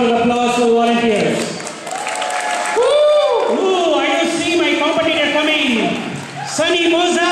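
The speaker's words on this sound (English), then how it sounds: "Can we have a big round of applause for the volunteers?" Loud crowd applause and cheering for volunteers at a dance-a-thon in a high school, with many overlapping voices shouting and whooping throughout the clapping.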